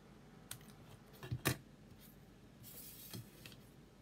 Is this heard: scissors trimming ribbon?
yes